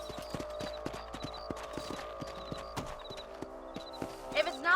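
Horses in the Western video game Red Dead Redemption clip-clop at a steady trotting rhythm, hooves close and clear over a musical game backdrop, with a short snort or whinny near the end.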